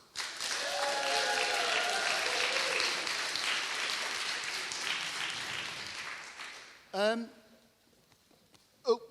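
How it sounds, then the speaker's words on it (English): Round of applause from an audience at a talk, steady dense clapping for about seven seconds before it stops abruptly, followed by a few spoken words close by. "could all just give Vicky a round of applause to thank her for the effort in helping Romy organise this."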